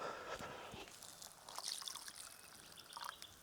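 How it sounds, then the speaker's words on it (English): A little water is poured into a vodka pasta sauce in a kitchen, giving a soft, faint trickle lasting a few seconds with small splashes and clinks, close by. "A little bit of water."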